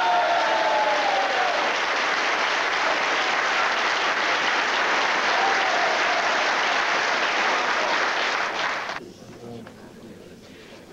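Audience applause at a 1987 evening political assembly at the Arena Ontario after a speech by Laurier, steady and full for about nine seconds before cutting off to quiet room tone.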